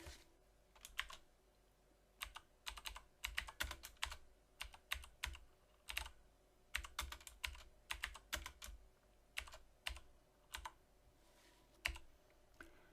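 Computer keyboard typing in bursts of quick clicks while entering data, close and clear with short pauses between runs of keystrokes, no voices.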